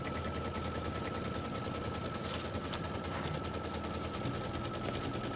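An embroidery machine stitches a pieced quilt block for a Kimberbell Wallflower quilt, giving off a steady, rapid mechanical rattle that runs unbroken and fairly quiet throughout.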